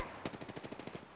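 Rapid automatic gunfire in the shooter video game Apex Legends, a steady burst of about a dozen evenly spaced shots over a little more than a second, fairly close and moderately loud.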